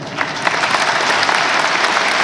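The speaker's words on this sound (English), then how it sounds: "We're going to keep the applause going for our amazing guests" Brief burst of steady, full applause from a convention audience for the guests, loud and continuous without pause.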